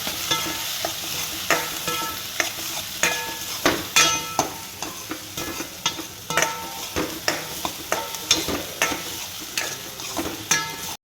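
Onions with turmeric stirred in a hot pan over high flame, a steady frying sizzle broken by repeated scraping strokes of a spoon, close and fairly loud, with no talk.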